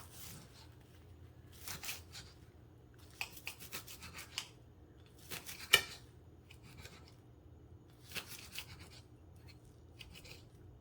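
A knife chops freshly rinsed chives on a board in several short, faint bursts of crisp cutting and scraping, separated by brief pauses.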